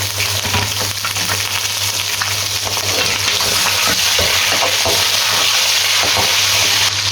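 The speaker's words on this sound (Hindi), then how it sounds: "चिकन की 5-7 मिनट अच्छे तरीके से बुनाई कर लेनी है" Frying chicken sizzles steadily in a pot with browned onions, a dense, continuous hiss with faint stirring clinks, close and loud throughout, no voices.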